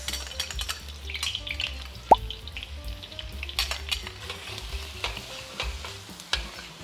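Garlic and onion sauté in hot oil for Pinoy-style fried rice, a close, steady sizzle broken by the scrape and clank of a spatula stirring in the pan, with no talking.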